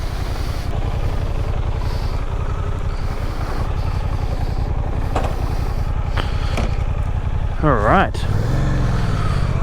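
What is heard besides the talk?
Suzuki GSX-8S motorcycle engine starting ride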